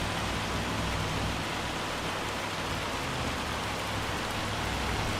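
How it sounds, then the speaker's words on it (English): Hail pounding down hard in the Farming Simulator 25 video game, a steady dense roar of pelting impacts that holds at a constant loud level throughout with no pauses. "Boy, that hail is just coming down hard."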